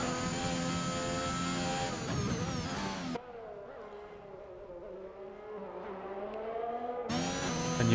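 Race car engine screaming at high revs down a straight at over 200 mph, with a sharp drop as it brakes hard, then the engine note climbing again as it accelerates, loud and close.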